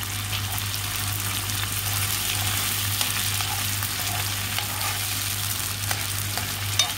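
Onion fries gently in a pan over low heat, giving a steady, even hiss with occasional faint pops and crackles.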